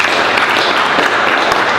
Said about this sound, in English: Can we get a hand of applause for